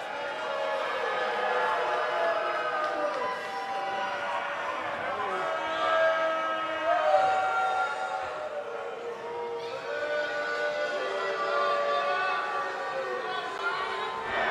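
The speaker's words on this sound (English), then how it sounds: "it sounds to me like this crowd already picked the one who they want to win this match" Arena crowd noise in the WWE 2K19 wrestling video game, a sustained wash of cheering under a commentator's voice, swelling slightly midway through before settling back to a steady roar.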